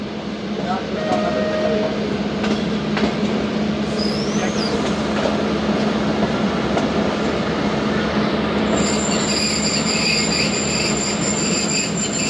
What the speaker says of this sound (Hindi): कोट अद्दू जंक्शन रेलवे स्टेशन में इंटर हो रही है ट्रेन हमारी